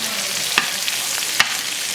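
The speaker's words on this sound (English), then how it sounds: "I'm sauteing my green beans and the beans as well" Green beans and other beans sauté in butter in a pan, giving a steady loud sizzle with a couple of sharp stirring scrapes, close by and with no voices.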